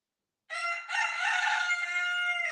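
A rooster crows once, loud and close, a long bright cock-a-doodle-doo that follows a brief opening note and holds steady to the end after a second of silence.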